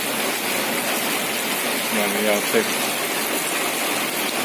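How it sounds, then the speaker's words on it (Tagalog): Heavy rain pours down steadily during a rainy fishing trip, a dense, constant hiss heard from shelter outside an office, with someone briefly speaking over it. "Lakas ng ulan."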